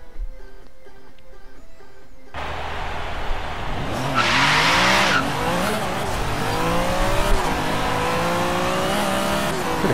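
A car in the Forza Horizon 3 racing game, a barn-find model with 551 foot-pounds of torque, revs its engine hard and accelerates, with a loud squeal of tires sliding midway before the engine climbs through the gears.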